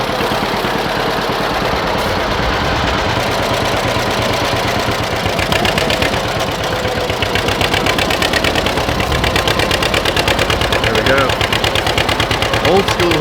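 A John Deere 420 tractor engine runs steadily under load while plowing, a loud continuous low chugging drone with a rapid knocking pulse throughout, with occasional faint voices in the background.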